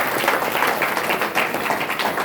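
Steady, dense clapping from a crowd gathered for a devotional kirtan performance, loud and continuous throughout, with no clear speech over it.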